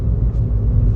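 A learner driver's car accelerating on the road, heard from inside as a loud, steady low engine rumble throughout the short stretch, with no talk.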